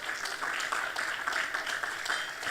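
A congregation claps during a Spanish-language church service, the applause moderately loud with a loose, pulsing rhythm that holds steady throughout.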